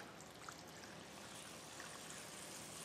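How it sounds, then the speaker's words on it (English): Water poured steadily into a plastic seed-starting tray of soil-filled cells, a faint continuous trickling and splashing wash with no break and no talk. "the last thing I'm gonna do is put water in this tray"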